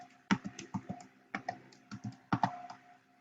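Typing on a computer keyboard while entering journaling text into photo software, a close run of irregular clicking keystrokes bunched into short bursts with brief pauses between them.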